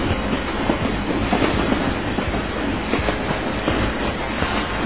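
A steam locomotive rolls steadily along with a continuous rattling, clickety-clack rhythm, moderately loud and unbroken throughout.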